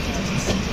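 A train rolls slowly into Nagpur junction on a Maha Kumbh Mela special run, a dense, steady rumble of cars heard from on board.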